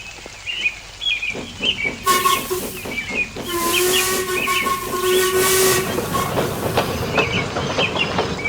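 A video game steam locomotive whistle in Trainz sounds in long, loud blasts over hissing steam and chuffing, close and insistent, with no voices.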